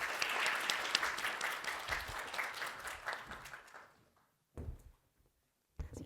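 An audience at a Hong Kong corporate leadership talk on shared value applauds for Florence, a dense burst of clapping that tapers off over about four seconds, leaving only a couple of faint scattered claps.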